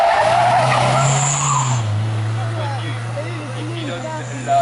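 A 2009 Citroën Méhari launches off the line at a historic hill climb, its engine revving hard and tires squealing loudly up close, while an announcer talks continuously over it.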